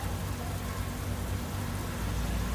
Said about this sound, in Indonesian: Curah hujan di sekitar daerah kota Cibaduyut masih sangat lebat sejak sore.